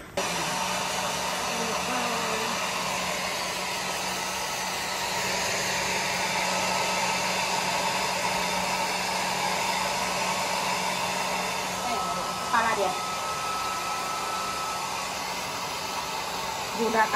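Hair dryer blowing steadily on a dog, a close continuous whooshing hum that holds for the whole stretch, with a few faint thumps near the end.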